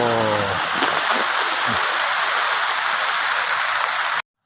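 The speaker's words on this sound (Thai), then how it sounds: "ฝนตกอีกสักพักนะถึงจะหยุดครับ" Rain falls steadily on Koh Samui in a garden viewpoint setting, making a loud, dense hiss that stays constant until it cuts off abruptly. A brief voice is heard at the very start.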